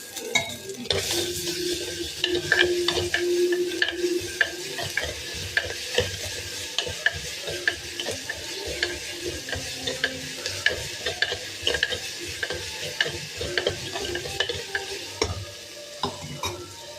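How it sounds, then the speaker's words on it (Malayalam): Curry leaves frying in a pan of oil and stirred, a continuous sizzle with frequent scraping and clinking of the spoon against the pan close by. "ഒരു പച്ചപ്പ് പോട്ടെ. കറിവേപ്പില ഇട്ട് കൊടുക്കാം."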